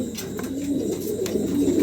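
Two fancy pigeons coo in low, rolling murmurs, close by and continuous, with a few faint clicks and scuffs mixed in.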